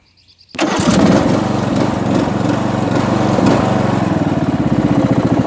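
A riding lawn mower tractor with wet tyres starts after a short crank, then its engine roars loud and steady at full throttle with the blade engaged, close up and without talk.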